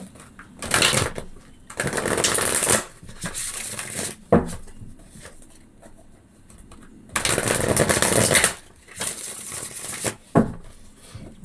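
Tarot cards are shuffled in several bursts of riffling and flicking, with a few soft taps between them and no voices.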